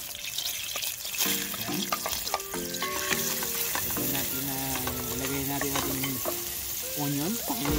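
Onion frying in hot butter in a pan while lasagna is made without an oven, with a steady close sizzle throughout and scraping, stirring clinks over it.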